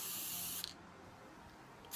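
Crystal clear acrylic spray hisses from an aerosol can onto paint-poured ornaments outdoors, a loud steady burst that cuts off, a quiet pause, then a fresh spray starting at the end.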